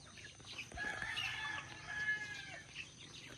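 Rhode Island Red hens cluck softly in a backyard coop, faint low murmuring calls with a few higher squawks rising over a quiet farmyard background.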